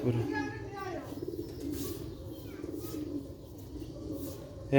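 Soft, low cooing of Sialkoti black-faced pigeons repeating close by, with a bird's higher call at the start and faint voices in the background.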